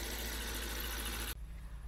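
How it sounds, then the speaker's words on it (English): An idling BMW N74 V12 direct-injection engine runs steadily up close, its high-pressure fuel injectors ticking over the smooth hum before the sound abruptly drops away near the end. "That noise you hear, that's the high pressure injectors."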